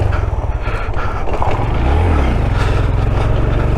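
A Honda Grom motorcycle engine runs close by, a loud steady throbbing drone that swells briefly in the middle before settling back, with no talking.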